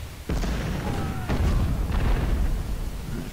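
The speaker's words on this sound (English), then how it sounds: "Artillery's opening up" Artillery fire in the Civil War strategy video game Ultimate General: Civil War, several heavy booming cannon shots in quick succession, loud and close, with rumbling decay between blasts.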